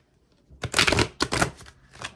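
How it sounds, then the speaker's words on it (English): A deck of tarot cards is riffled and shuffled in two quick, crisp bursts of flapping card noise, close up, with a brief pause between them and no talking. "I'm going to shuffle the deck."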